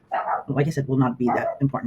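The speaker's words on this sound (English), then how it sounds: "Sorry about the barking background noise." A pug barks in the background, sharp yips mixed in under a person talking steadily close by.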